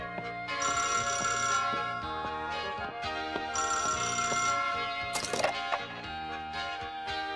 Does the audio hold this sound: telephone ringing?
yes